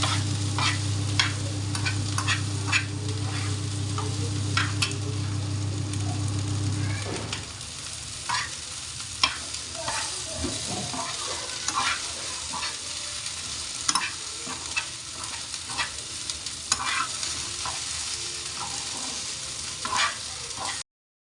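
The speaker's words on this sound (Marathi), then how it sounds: "भेंडी चांगली फ्राय करून घ्या परतून घ्या" Okra frying in oil in a pan, stirred with a spoon: a steady loud sizzle with a low hum for the first seven seconds, then repeated scraping stirs and crackles over a quieter sizzle, no talking.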